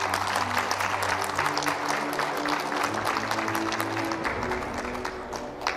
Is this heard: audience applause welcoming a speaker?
yes